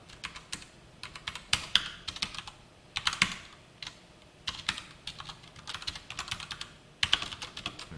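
Java code being typed on a computer keyboard, with quick bursts of close, crisp key clicks separated by short pauses and a faint background hum, without any talking.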